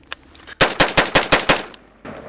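A Radical Defense MK1 Patrol Mod1 rifle fires a rapid string of about seven sharp, loud shots from a 28-round magazine. The shots come close together and evenly spaced, with a faint click before them and a short mechanical rattle after.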